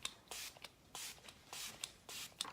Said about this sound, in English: Now I'm gonna do another quick mist of setting spray.